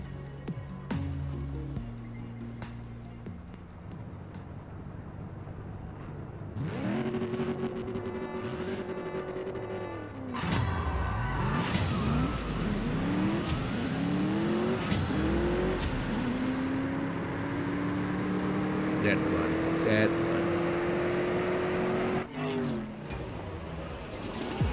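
Race car engine in the CSR 2 mobile racing game during a one-mile race, revving hard and climbing through several gear shifts with rising whines, sustained and loud from midway on, no talk.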